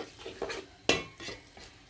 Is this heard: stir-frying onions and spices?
yes